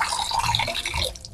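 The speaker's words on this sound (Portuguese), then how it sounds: "Vai colocando aqui a água." Water is poured into a homemade composter built from plastic bottles, a close trickling and splashing that tapers off toward the end.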